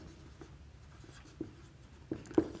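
Pen or chalk writing out words by hand during a science lesson, soft scratchy strokes in short bursts with a few louder taps, close and quiet with no talking.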